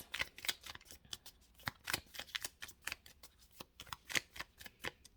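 Tarot cards shuffled by hand in a quiet room, a rapid irregular run of crisp riffling slaps and flutters, close and alone with no talking.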